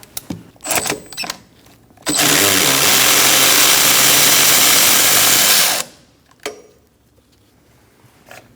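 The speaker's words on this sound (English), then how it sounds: "going to use a 10mm socket on this bolt" A 10mm socket on a power tool spins a brake bolt loose on a 2012-2020 Chevrolet Sonic during wheel cylinder replacement: a loud, steady mechanical whir lasting several seconds, framed by clanks and tool handling before and after.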